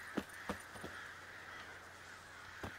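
A few crows caw in The Witcher 3, scattered harsh calls over a steady windy outdoor ambience, fairly faint and spaced apart.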